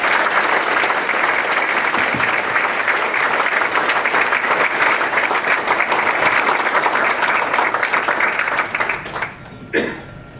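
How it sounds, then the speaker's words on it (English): A large audience applauds steadily and loudly at a US Army Corps of Engineers Southwestern Division change-of-command ceremony, dense clapping sustained for about nine seconds before tapering off near the end. "Let's give them all a big round of applause."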